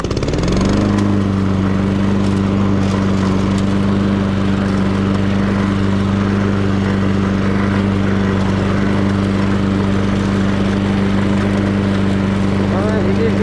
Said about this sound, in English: Okay, so we're gonna get the mower.